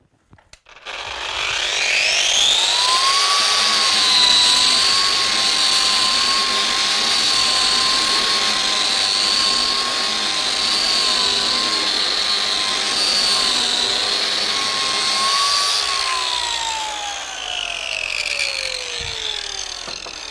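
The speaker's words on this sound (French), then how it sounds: "Je vais commencer par poncer ce mur." A Festool RENOFIX RG 130 renovation sander grinds across a wall with a loud, steady high whine that runs unbroken for most of the time, then winds down near the end.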